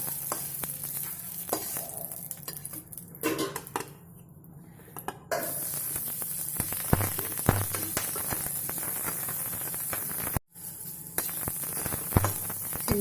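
Capsicum sizzles as it is lightly fried in a kadai, a continuous crackling hiss broken by stirring scrapes and clinks of a utensil against the pan, with a few brief pauses.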